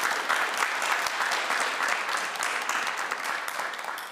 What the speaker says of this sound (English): So if you give all of our guests a big round of applause just now,